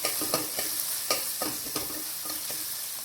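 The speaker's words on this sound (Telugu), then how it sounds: "మూడు పచ్చిమిరపకాయలు స్లైసెస్గా కట్ చేసుకుని వేయించుకోవాలి" Three sliced green chillies fry in a hot pan with a steady, close sizzle, broken by a few sharp scraping clicks of stirring.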